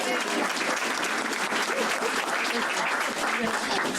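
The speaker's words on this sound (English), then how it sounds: "if you could give her a big round of applause" A crowd at a political rally claps in sustained applause, dense and steady throughout with faint voices mixed underneath.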